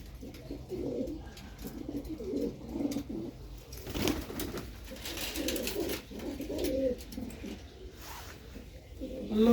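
Pigeons coo in a low, repeated murmur from several birds close by, with a brief rustle near the middle; someone talks intermittently over them.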